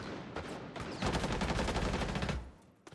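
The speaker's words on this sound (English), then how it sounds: "He did just hear the Legion shoot." A Legion gun firing in a shooter video game, a rapid automatic burst of loud, close shots lasting about a second and a half, preceded by a few scattered quieter pops.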